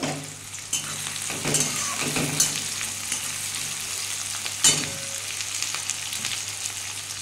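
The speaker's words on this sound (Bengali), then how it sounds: "দিয়ে বন্ধুরা পেঁয়াজটাকে ভেজে নেবো ভালো করে।" Chopped onions and garlic fry in hot oil, a steady close sizzle with occasional scraping stirs and clatter in the pan.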